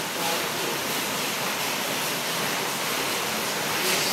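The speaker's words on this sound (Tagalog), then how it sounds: "lumakas ang hangin guys" Strong wind roaring steadily during a typhoon, a dense, continuous rushing wash that stays loud and even throughout, with no talking.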